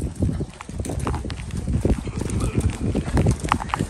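A horse's hooves clop along a road in a steady walking rhythm, close and distinct, with some faint background noise.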